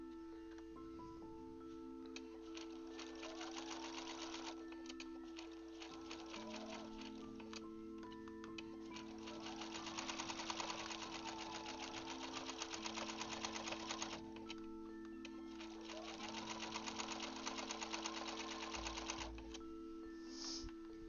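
A sewing machine stitching a quilt in blue fabric, running in long rapid bursts of fine mechanical ticking separated by short pauses, close and steady over a faint constant hum, with no talking.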